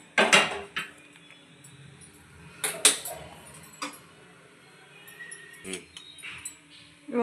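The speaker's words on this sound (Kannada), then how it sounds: "ಫಸ್ಟ್ ಒಂದು ಕುಕ್ಕರ್ ಇಟ್ಕೊಳ್ಳಿ." A pressure cooker is set down on a gas stove in a home kitchen, giving a few sharp metallic clanks and knocks spaced apart against a quiet room.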